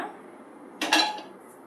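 A metal pan is picked up and set down in a kitchen before chocolate is melted by double boiling, giving one short, bright clatter after quiet room tone.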